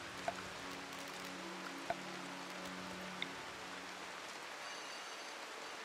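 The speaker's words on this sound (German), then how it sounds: "Da regnet es nämlich rein." Steady rain in the game RimWorld, a soft even hiss of falling water with a few faint tick-like drops and a low hum underneath, no voices.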